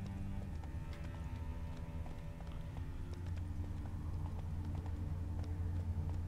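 Hoofbeats of the horse Roach galloping in The Witcher 3: Wild Hunt, a rapid, steady clip-clop rhythm that carries throughout at moderate volume under a low rumbling backdrop.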